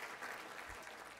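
Brief steady clapping from a breakfast audience at a community college event, soft and diffuse with no voices on top.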